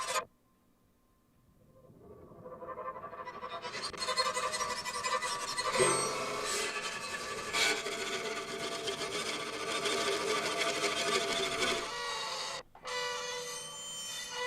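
Synth harp patch drenched in shimmer and chorus for dark horror music, a wide, dense, swelling wash that fades in over a few seconds, sustains thick and grinding, then briefly cuts out near the end.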